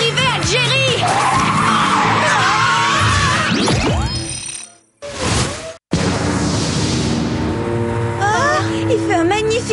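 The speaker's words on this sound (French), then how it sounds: "Sam, appuie sur les freins." A cartoon car brakes hard and skids in long squealing screeches amid whooshes and speech, broken by a brief sudden dropout before the noisy action resumes.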